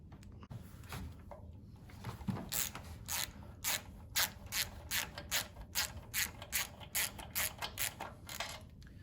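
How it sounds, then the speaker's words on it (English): Allen key bolts being undone on a Garland commercial backsplash, a quiet rapid series of ratcheting clicks in short repeated bursts, close and alone. "We do this from undoing these 4 Allen key bolts and also this wedge"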